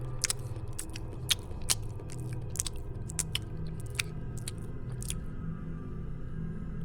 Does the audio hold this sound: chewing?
yes